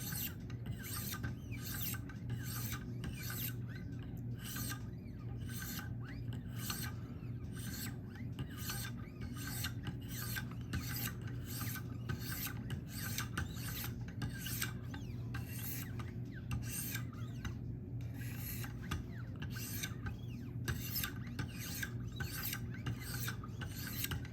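Spyderco PM2 Maxamet blade is sharpened on a Wicked Edge stone, a rhythmic rasping of rapid back-and-forth strokes that repeats steadily and closely for about twenty-four seconds, with no talking.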